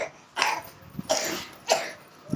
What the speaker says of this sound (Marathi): किती खोकला यायला लागला